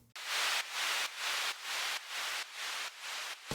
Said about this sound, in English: Got my white noise,